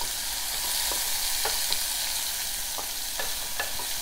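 Sliced onions fry in a pan with a constant hiss, while a handful of spatula scrapes and taps land at uneven intervals; steady and close, with no speech.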